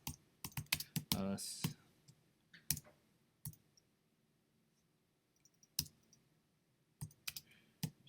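Typing on a computer keyboard, with scattered short bursts of crisp key clicks and a few isolated taps separated by quiet pauses, close and fairly faint, a brief spoken word among them.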